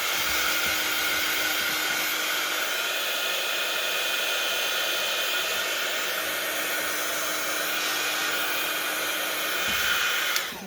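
Hair dryer blowing on freshly glued paper for a recycled junk journal, a steady, unbroken whirring rush of air that holds constant for about ten seconds before cutting off at the end.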